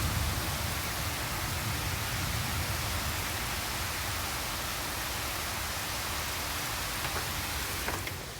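Torrential rain pours down in Indianapolis, a loud, unbroken hiss of heavy downpour that holds steady for the whole stretch with no voices.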